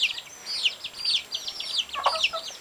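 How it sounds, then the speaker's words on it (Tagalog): Chickens cluck and chirp in quick, overlapping calls nearby, with a short louder squawk near the end. "Chicken."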